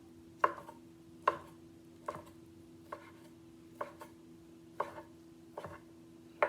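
A knife chops through rotisserie chicken on a cutting board in steady, separate thuds, about one per second, close and clear with no talking.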